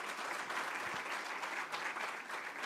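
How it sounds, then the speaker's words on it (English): Audience at a university founders lecture and gala dinner gives a round of applause, heard as dense, even clapping from a large crowd that continues steadily through the whole stretch. "So can I request a round of applause"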